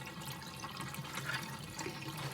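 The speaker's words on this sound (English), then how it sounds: "You're gonna want to drain the water and keep the rice wet." Faint water pouring and trickling as soaked rice is drained for a Bombay biryani, a soft continuous splashing flow with no talk.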